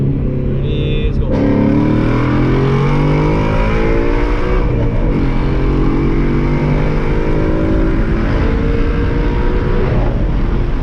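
A Ford Mustang accelerating hard through the gears on a 40 mph roll pull from second gear, its loud, close engine climbing in pitch with each gear, heard inside the car with brief shifts breaking the continuous roar.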